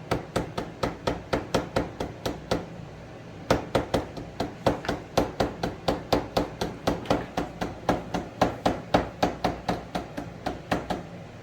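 A hammer taps plastic magnetic catches into a wooden kitchen island under construction, a long run of sharp, evenly spaced knocks at a quick steady pace, briefly pausing once before resuming, fairly loud and close.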